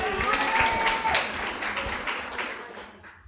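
An audience at a welcome reception at the University of San Diego applauds, a full burst of clapping that gradually thins and fades out toward the end.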